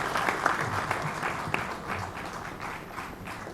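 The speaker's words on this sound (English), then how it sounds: "I would request you to applause. A good applause" Audience applause at a management institute convocation, a steady mid-level wash of clapping with a few sharper individual claps.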